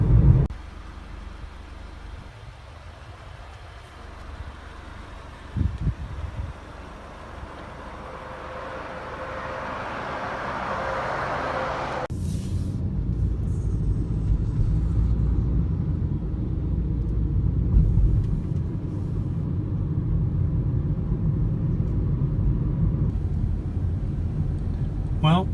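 Car cabin road noise while driving toward Bar Harbor, Maine: a steady low rumble that grows louder and denser partway through, with a brief knock early on and no talking.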